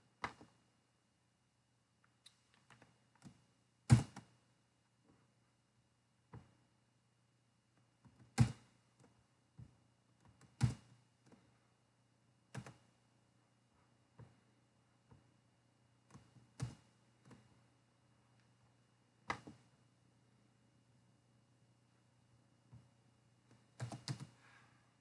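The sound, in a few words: typing on a computer keyboard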